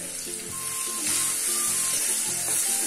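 Boiled potatoes and peas with turmeric frying in a pan, giving a steady close sizzle with light scraping and bubbling throughout.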